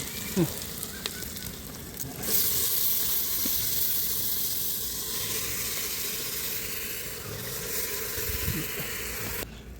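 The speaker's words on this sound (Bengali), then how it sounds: "একটু আদা রসুন পেস্ট দিয়ে দিয়েছি, সুন্দর করে এটাকে প্রেসার কুকারে ভেজে নেব" Ginger-garlic paste fries in oil inside a pressure cooker in a rural home kitchen, a steady close sizzle and hiss running throughout with a few soft clinks near the start, no voices.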